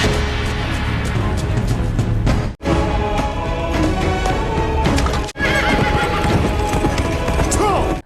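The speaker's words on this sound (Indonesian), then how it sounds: "pergi dari sana untuk menyusul kereta kuda yang membawa harta karun" Horse-drawn carriage in a period drama scene, horses neighing and whinnying over rhythmic clip-clopping hooves and rolling wheels, loud and close, with voices mixed in and two brief cuts to silence.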